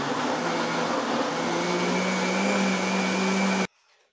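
A blender whirs loudly and steadily as it mixes apple, banana and cinnamon cake batter with oil and apple peels, then cuts off abruptly near the end, leaving near silence.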